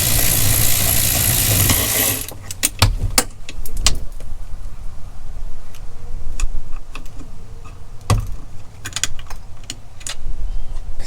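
Ratcheting and clicking of a tool loosening the final bolt on a RAM truck tow mirror, with sharp metallic clicks and a steady rumble at first, then scattered jangling taps up close.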